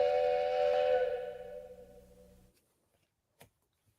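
A steam train whistle blows as a single long, loud harmonic blast that slowly fades and cuts off, followed by near silence with a faint click.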